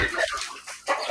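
Hens cluck in short, uneven bursts close by, with a few sharper calls breaking through the barnyard chatter.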